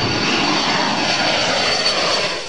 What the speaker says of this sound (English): A U.S. military spy plane is on a mission to catch cocaine-loaded speedboats